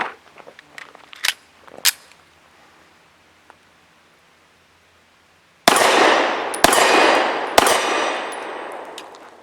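A Smith & Wesson Performance Center SW1911 Pro Series 9mm pistol fires Federal HST 124 grain nickel-plated hollow points outdoors: three loud close gunshots about a second apart, each ringing off, after quiet rustling and small clinks.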